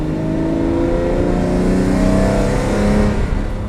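A Ferrari V12 revs loudly and close, as heard from inside near its intake ducts, with a steady, rising and falling cadence that runs throughout and no talking.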